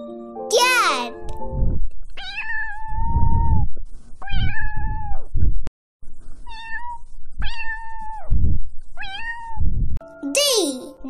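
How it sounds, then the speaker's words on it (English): A cat meows several times in a row, each call clear, close and drawn out, with a voice heard at the start and end. "C for cat."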